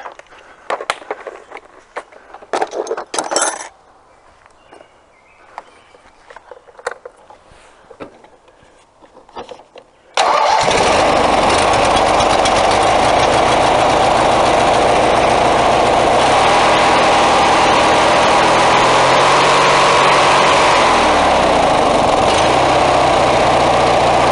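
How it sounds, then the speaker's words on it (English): After several seconds of quiet clicks and handling, an engine cranks and fires up, then settles into a loud, steady idle that runs to the end. "Now we're going to see if it fires up."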